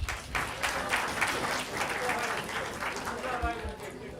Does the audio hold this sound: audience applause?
yes